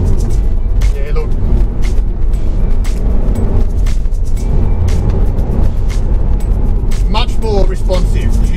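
A 2018 Subaru Levorg with a CVT drives while the driver works the paddle shifters, its engine and road rumble a steady, close drone under intermittent talk in the cabin.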